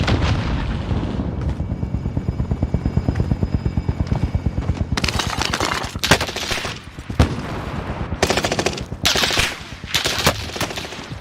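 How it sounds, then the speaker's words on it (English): A supply helicopter arriving in a Call of Duty match, its rotor chopping steadily and loudly, then drowned out by repeated bursts of heavy gunfire and explosions. "Mercenaries called in a supply chopper to offload their cash reserves."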